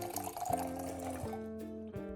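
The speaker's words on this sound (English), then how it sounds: "Pour about 1 inch of clean water into a cup or jar." Clean water poured into a cup or jar in a home kitchen, a short gurgling trickle that rises in pitch as the vessel fills, near and fairly quiet, with no talking.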